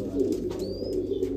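A Royal Teddy pigeon gives a soft, low, throaty coo close by, a steady rolling murmur lasting the whole moment, with a faint higher chirp above it.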